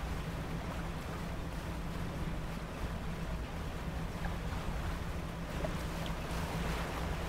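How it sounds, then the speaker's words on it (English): A fishing boat plows through rough ocean waves in the video game DREDGE, a loud, steady wash of engine rumble, water and wind noise with no talking. "It's getting rough. Let's see if we can get some air off these waves."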